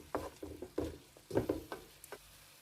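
Cauliflower, meat, garlic and almonds stirred in a pan, giving a run of close, soft scraping and clattering strokes with a light sizzle beneath, in irregular bursts over a few seconds.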